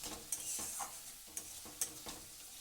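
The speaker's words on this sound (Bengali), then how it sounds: "এবার মশলাটাকে একটু তেলের মধ্যে একটু কষিয়ে নিলাম।" Spice paste sautéing in oil for an egg and cauliflower curry, a soft sizzle with several distinct stirring scrapes of a spoon against the pan, close and quiet, no talk.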